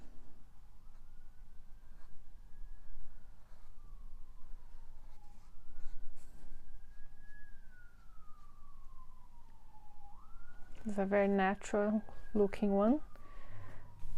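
An ambulance siren wails outside, a faint, distant rising-and-falling tone sweeping slowly and continuously, with someone speaking close by over it.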